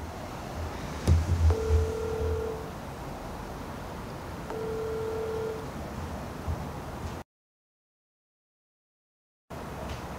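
A mobile phone call rings back with two long electronic tone bursts a few seconds apart over faint background hiss, then cuts to silence as the phone is switched off.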